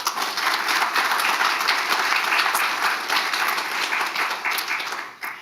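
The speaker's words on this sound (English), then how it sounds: "Please round of applause for our guest, Joe Williams." An audience applauds steadily, a dense wash of clapping hands that fades slightly toward the end.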